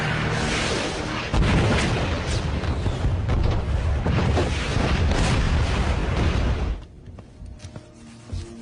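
Missile or artillery fire at a target in a war film, a sustained loud roaring blast and rumble lasting several seconds before cutting to quieter ambience.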